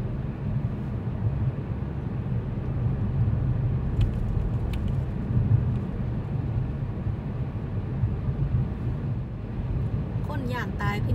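A car cruises along the road with a steady low engine and tyre rumble throughout, and someone talks over the drone.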